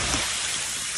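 Steady rain pours down outdoors, a dense, even hiss of drops hitting surfaces close by, continuous and loud with no voices over it.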